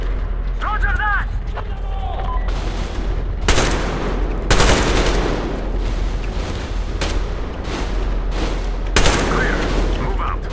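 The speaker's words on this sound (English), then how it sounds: "Covering fire for the Colonel! No saving ammo!" Heavy covering gunfire in Metro Exodus, with loud bursts of automatic fire and sharp shot clusters recurring across the clip, with voices calling out between the volleys.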